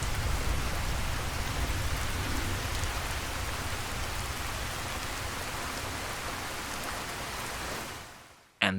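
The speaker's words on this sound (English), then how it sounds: "Oh, when it starts to rain, oh my, you really feel like a part of this world." Steady rain pours down in the Fallout: New Vegas world, a dense, even hiss that holds at the same level for several seconds, then cuts out abruptly near the end.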